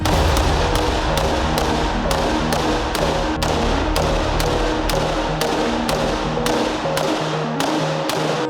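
A Colt 723 carbine fires a steady string of shots at roughly two per second, each a sharp crack over a constant loud background rumble, with no pause for about eight seconds.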